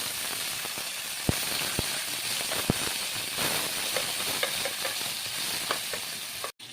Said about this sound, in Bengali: তেল গরম হয়ে গেছে, এখন আমি প্রথমে মাছগুলো দেব।